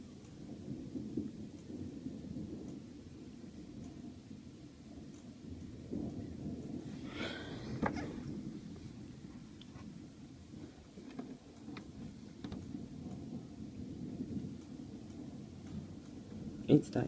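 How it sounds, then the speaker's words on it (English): Thunder rumbles low and long during a severe UK thunderstorm, with a sharp crack midway over steady rain and a voice speaking at times. "It's thundering like it's never thundered ever before."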